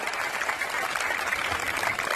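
An audience claps steadily throughout, a dense, even patter of many hands at a religious discourse gathering, fairly loud and continuous with no pauses.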